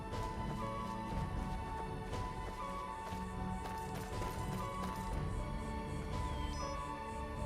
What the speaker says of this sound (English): There's their horses.